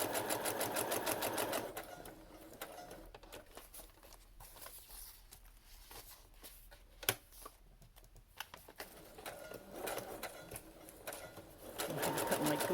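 A sewing machine stitches through a cardstock and tracing paper pouch in rapid, steady bursts at the start and end, with a quieter pause between.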